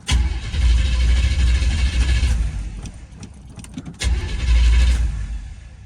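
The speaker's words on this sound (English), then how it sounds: "that fuel pump will kick in a second, hopefully" An old car's engine cranks and catches, running with a loud steady low rumble, briefly dropping to clicks and rattles before firing up again, close and continuous.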